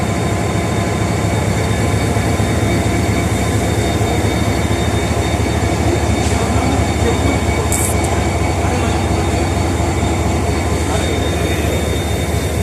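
A passenger train travelling from Rawalpindi to Karachi rumbles loudly and steadily with rhythmic wheel clatter and a droning machinery hum, heard up close from on board, with a brief high squeal partway through.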